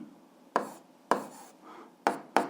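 Chalk or pen strikes a board while a physics formula for power is written, four sharp, close taps and strokes at an uneven pace with short scratchy trails in a quiet room.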